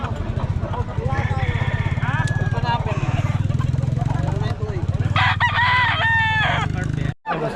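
A rooster crows loudly and nearby, then crows again a few seconds later over a steady engine drone and people talking.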